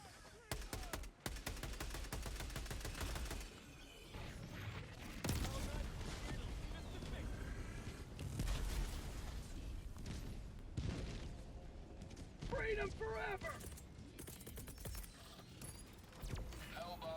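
Liberator assault rifle gunfire in Helldivers 2 comes in bursts of sharp rapid shots with booms and mechanical clatter, separated by brief lulls, with a voice talking in places.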